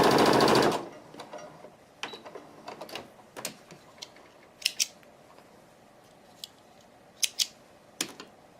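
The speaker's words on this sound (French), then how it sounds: "vous placez votre échantillon sous votre machine. Vous enfoncez l'aiguille." A sewing machine stitching a fabric sample: a loud whirring burst of stitching at the start, then scattered clicks and small mechanical taps as the needle and fabric are adjusted, close and without talk.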